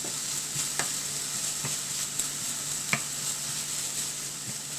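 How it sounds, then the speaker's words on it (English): Onions sizzle in hot oil with cardamom pods and cloves, a steady soft frying hiss broken by a few light stirring clicks, quiet and close. "just fry it until the onions become a little translucent."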